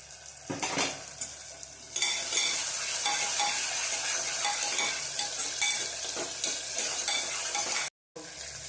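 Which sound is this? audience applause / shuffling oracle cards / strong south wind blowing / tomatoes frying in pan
tomatoes frying in pan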